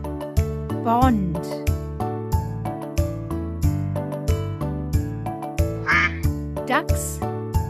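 Several quick duck quacks pop out over a cheerful, steady musical backing in an animal-homes lesson for children, with clear bursts near the end.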